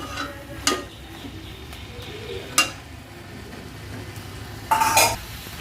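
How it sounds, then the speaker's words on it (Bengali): Fried shrimp curry stirred in a pan with coconut, giving a few sharp utensil scrapes and clinks at intervals over a low background sizzle, fairly close and moderately quiet. "জলটা একটু মরে আসুক ততক্ষণ আমি এটাকে একটু নাড়তে থাকবো"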